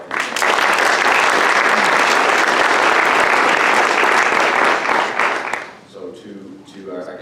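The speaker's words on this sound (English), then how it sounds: "So we just give them a round of applause." Sustained, loud audience applause fills a hall for several seconds, then tapers off as a speaker's voice takes over near the end; the event is a public talk on climate justice with a guest of honour.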